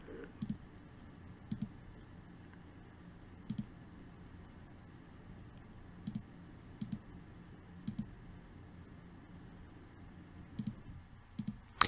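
Computer mouse clicking while working in Inkscape: quiet, sharp clicks, often in quick pairs, spaced irregularly over a faint, near-silent room background.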